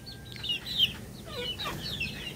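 Hens in roomy backyard chicken pens in Bugay, Cagayan, a few soft clucks and short calls at close to middle distance over a low background hum.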